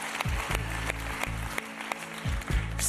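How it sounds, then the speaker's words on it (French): An audience applauds a contestant named Zidani at a metro casting show, a dense broadband wash of clapping with low music-like tones running beneath it. "Applaudissements pour Zidani."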